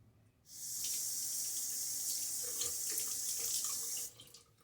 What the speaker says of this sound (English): Rinse off my hand there.